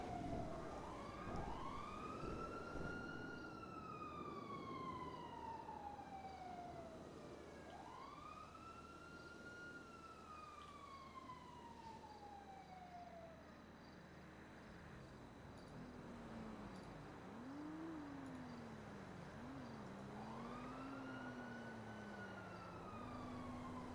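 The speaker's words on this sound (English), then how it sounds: "I can hear the other cop sirens" Several police sirens in a video game wail and rise and fall continuously at a distance, overlapping in a steady urban drone with no voices.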